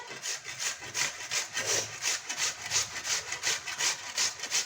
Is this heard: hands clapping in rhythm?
no